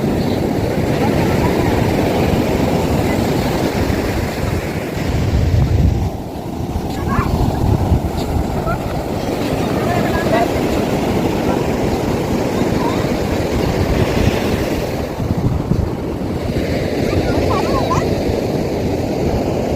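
Waves wash and roar continuously along a shore, mixed with wind buffeting the microphone, and a voice speaks over the surf.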